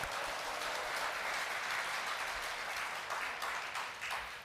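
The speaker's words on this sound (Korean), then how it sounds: "지금 하나님께 영광의 박수를 올려드렸는데" A church congregation at a fasting prayer retreat claps in praise, a dense, even wash of many hands that carries on through the whole stretch and tapers slightly at the end, heard from a middle distance.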